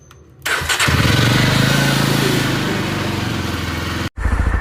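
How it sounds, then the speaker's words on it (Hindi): A motorcycle engine is cold-started: it catches sharply after about half a second, then settles into a loud, steady, close-up idle with a brief dropout near the end. "कोल्ड स्टार्ट कर लेते हैं जब तक"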